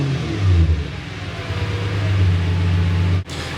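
A loud, throaty 2008 Subaru Legacy 3.0 R Spec B engine rumbles close by through a straight-pipe exhaust, deep and burbling with a slight rise in revs, cutting off briefly near the end before resuming.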